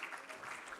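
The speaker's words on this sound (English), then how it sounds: "let's not stop clapping till all of them come to the top" Conference audience applauding at an African construction law event, a steady dense wash of clapping through the short moment.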